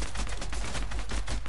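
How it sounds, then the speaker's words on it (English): Rapid video game gunfire from a 3v3 match, a loud and continuous run of close bursts that keeps a steady, hammering rhythm throughout. "They're shooting down!"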